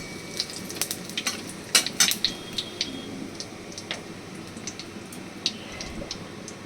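Bay leaves, a dried chili and white cumin frying in hot oil, a steady sizzle with sharp pops and crackles scattered throughout, loudest in the first few seconds, with no talking.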